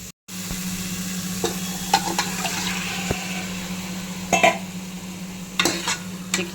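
Chicken biryani masala of onion and tomato gets stirred in a pressure cooker, with steady sizzling under scattered scraping strokes of a spoon against the pot and a constant low hum throughout.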